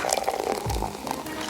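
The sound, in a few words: pouring strawberry coconut water drink over ice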